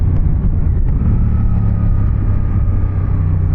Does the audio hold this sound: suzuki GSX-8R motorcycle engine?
yes